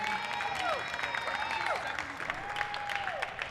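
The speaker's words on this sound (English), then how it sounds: "Let's give a round of applause for Haman here." An audience applauds a third-place lifter at the UBC New Year's Powerlifting Championship 2025 awards, with moderate clapping and sharp whistle-like tones rising through it.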